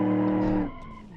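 A car's tires skid briefly under the handbrake, a loud screech over engine drone that cuts off abruptly after about half a second, leaving a quieter engine hum.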